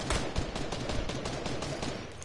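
Rapid gunfire in a video game, a dense burst of repeated sharp shots close up and loud, running continuously with no clear gaps.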